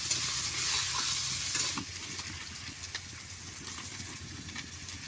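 Grated fresh coconut frying in a little white oil in a pan, a steady bright sizzle with scraping stirring strokes, close and continuous with no talk.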